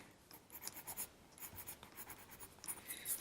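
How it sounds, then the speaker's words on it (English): A pencil scratches short strokes across paper while lines are drawn for a mixed-media garden scene, quiet rapid scribbling close up. "I can make those lines better if I actually pencil them in the correct direction"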